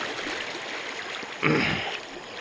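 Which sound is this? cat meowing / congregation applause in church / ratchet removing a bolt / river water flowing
river water flowing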